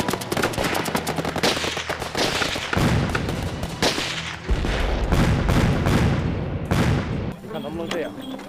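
Dense battle gunfire in a Chinese war drama set around Yan'an, with rapid machine-gun bursts and heavy overlapping shots and blasts roaring continuously and loud throughout.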